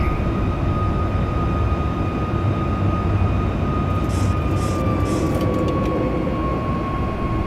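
A Boeing 737 MAX 8 climbs after takeoff in the X-Plane 11 flight simulator, giving a steady broadband jet roar with a sustained whine that slowly drops in pitch, loud and constant throughout.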